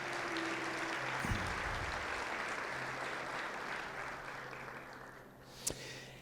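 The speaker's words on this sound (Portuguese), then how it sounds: "Você pode aplaudir o Senhor Jesus?" A church congregation claps during a Portuguese-language service, a soft, distant hiss of many hands applauding that fades slightly toward the end, with a low steady hum and one sharp knock near the close.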